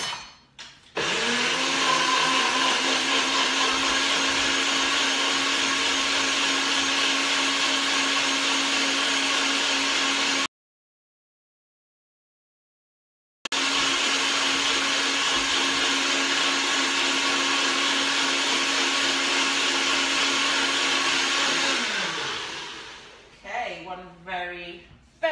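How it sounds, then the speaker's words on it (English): A NutriBullet blender whirs steadily as it blitzes a green smoothie with spirulina, a loud continuous motor drone that runs for several seconds, cuts out briefly, resumes, then winds down into rattling. "just going to pop that on and whiz that up on the NutriBit"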